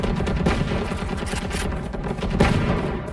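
Video game gunfire crackles in a dense fusillade of rapid shots and bursts, fairly close and continuous, with sharper cracks standing out.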